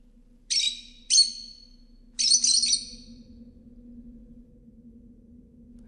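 A cardinal in the video game Virginia gives three bright, high-pitched chirping calls in quick clusters, clear and fairly loud over a low steady hum, followed by quiet ambience.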